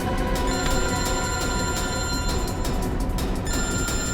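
Telephone ringing steadily and loudly throughout, a continuous bright electronic ring over a dense, busy background, with no speech.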